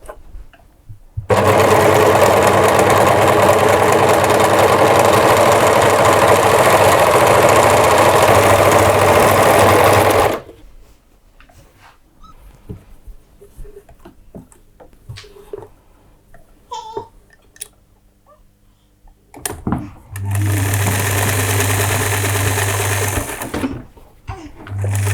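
A sewing machine runs in a loud, steady rapid stitching burst, pauses for some quiet handling noises, then starts stitching again.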